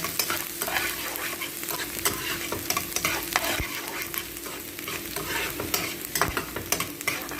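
Onions and leftover chicken stirred in a frying pan, a soft continuous sizzle with irregular scraping strokes of the spatula and occasional clacks, close and moderately quiet, no talking.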